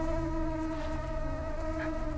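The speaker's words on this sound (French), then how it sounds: "Vous entendez ces bourdonnements?" A tiny alien insect buzzes continuously and loudly close by, a steady droning whine with layered harmonics that wavers slightly in pitch over the couple of seconds.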